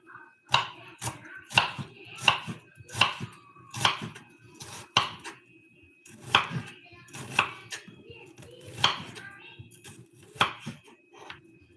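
Onions chopped on a board while cooking at home, a steady series of sharp knife strikes in uneven rhythm, close and clear, with a faint hum beneath.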